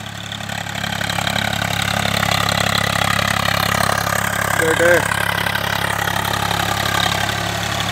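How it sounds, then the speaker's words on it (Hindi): A Swaraj 855 FE tractor pulls a laser leveler loaded with soil, its engine giving a steady mid-pitched drone under someone talking. "देखिए मिट्टी ज़्यादा ही ट्रैक्टर लोड मारना शुरू हो गया"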